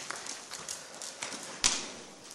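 A horse canters to the right around an arena, its hoofbeats coming as soft repeated thuds in a rolling rhythm over a steady background, with one sharper louder knock partway through.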